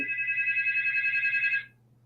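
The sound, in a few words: phone ringing with an incoming call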